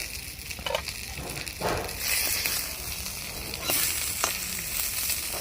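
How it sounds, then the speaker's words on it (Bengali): Small mourola fish paturi wrapped in bottle gourd leaves fry in a covered pan with a loud, steady sizzle and crackle. The sizzle swells in the middle, with occasional sharp pops and no one talking. "আবারও ঢাকা দিয়ে আরেক পাশ ভেজে নেব।"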